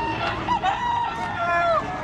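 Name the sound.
large rooster crowing at Baliuag pet market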